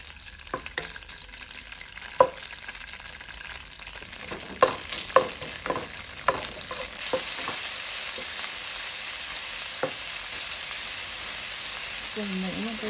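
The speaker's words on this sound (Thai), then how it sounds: "เริ่มจากการเอาเต้าหู้ลงไปทอดในน้ำมันให้เต้าหู้มีความเหลืองสักนิด" Tofu fries in oil for pad thai: scattered spatula clacks and crackles early, then a loud continuous sizzle builds and holds, heard close with no talking.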